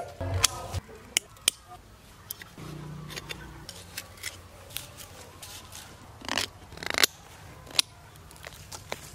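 Scissors snip the top off an American bougainvillea sapling being shaped, a series of sharp, close clicks and short cuts spread across the clip with faint rustling of the plant between them.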